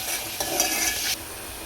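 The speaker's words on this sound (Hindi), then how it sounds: "इसको अच्छे से मैं बघारूंगी कच्चेपन खत्म होने तक" A short burst of hot sizzling as chutney is tempered and stirred in a pan, a bright frying hiss that swells and then drops off.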